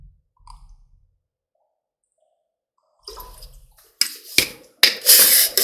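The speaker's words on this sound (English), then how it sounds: "Sorry if you hear my water." Water running at a desk during a Sims 4 play session, heard after a few faint clicks as loud gushing bursts of noise that grow stronger and more continuous toward the end.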